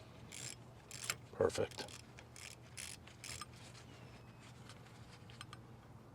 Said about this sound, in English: I do have a little ratchet here, which is gonna work just fine